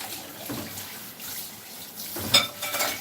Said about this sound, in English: I'm just going to put these in some warm water, because these are the ones I will hand wash.